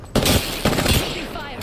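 Apex Legends video game gunfire, several sharp bursts of shots at close range, while a voice speaks over the shooting.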